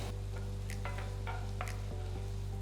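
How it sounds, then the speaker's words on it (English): Finely chopped onion and chopped garlic sauté in a pan for a white sauce macaroni, giving a steady low sizzle with a few light stirring clicks and scrapes throughout. "Saute the onions and garlic for about a minute."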